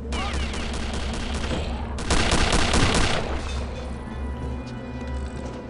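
Heavy, sustained gunfire in Return to Castle Wolfenstein rattles continuously from start to finish as a dense volley of loud shots, peaking in a louder cluster midway before easing slightly.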